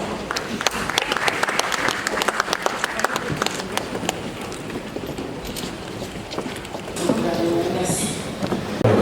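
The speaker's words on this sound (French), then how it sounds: "Sous vos applaudissements, Monsieur le Premier ministre" Audience applause for the Prime Minister at a live event in Congo, steady dense clapping with crowd noise and some talk mixed in, swelling louder near the end.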